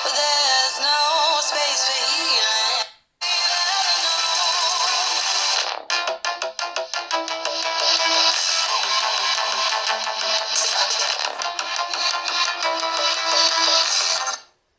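Ringtone melody played loud and steady through the single speaker of a Samsung Galaxy A07 phone, bright and continuous with a short gap near the start and a brief stutter midway, no talking.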